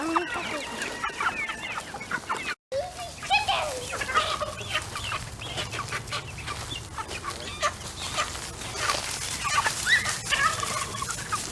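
White Plymouth Rock chickens cluck and squawk loudly and continuously at close range while being herded into their own pen, with turkeys gobbling and brief voices among them.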